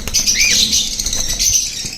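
Cockatiels kept for sale and breeding flap their wings in a close, busy flurry, with a squawk cutting through near the start and no voices.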